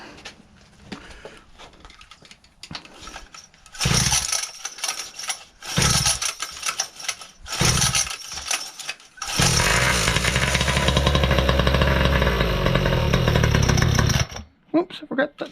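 The Raminator monster truck engine, fitted with a new carburetor, cranks in short bursts and then catches. It roars up loud and close into a sustained rough idle and revving, then cuts off abruptly near the end.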